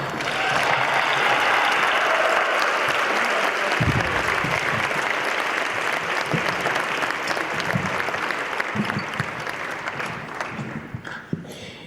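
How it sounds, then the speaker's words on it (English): A large crowd at an academic awards convocation applauds steadily and loudly for several seconds, the clapping thinning slightly toward the end. "give them a little more round of applause"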